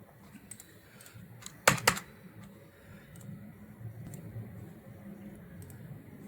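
Typing on a computer keyboard in an office setting: scattered light key clicks across several seconds, with a louder cluster of taps near the middle, all fairly faint against a low background hum and no voices.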